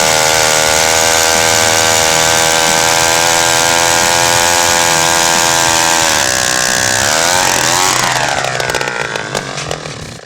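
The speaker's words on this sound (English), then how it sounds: "On this episode, I revived this Ice Auger from 1953." A 1953 ice auger's small gasoline engine running loud and steady at high revs, its tone shifting and dropping near the end.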